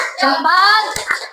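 A school class chants together in unison, followed by a couple of sharp, close hand claps near the end.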